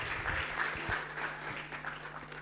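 Scattered audience applause at a virtual national students' anti-corruption awards ceremony, fairly faint and steady clapping for a couple of seconds with no voices.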